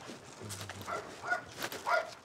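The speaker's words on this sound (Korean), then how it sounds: "여기 강아지가 있는데" A dog in a small countryside village in Hoengseong, Gangwon, gives a few soft whimpers and short yips, faint and close together, with no voices.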